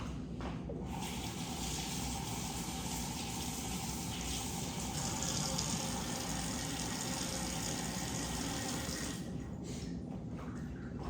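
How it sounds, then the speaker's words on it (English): Tap water runs steadily as hands are rinsed during cabbage preparation for lactic acid fermentation, a continuous broad hiss of flowing water that starts and stops abruptly, with a low hum beneath. "right after I rinse off my hands"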